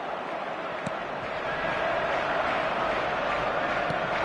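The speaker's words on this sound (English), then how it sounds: "The supporters in great voice, and there's a real sense of anticipation in the air." Football stadium crowd in the eFootball video game, a steady, dense roar of supporters holding at an even level throughout with no distinct peaks.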